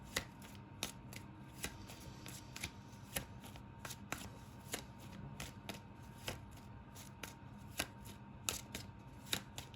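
Rapid, regular riffles of playing cards being shuffled up close, crisp snapping bursts repeating in a steady rhythm against a quiet background.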